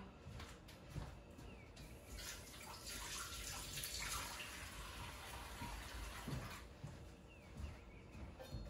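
Vegetables are rinsed under a running kitchen tap: a soft, steady gush of water with faint splashing, quiet and close, without talking.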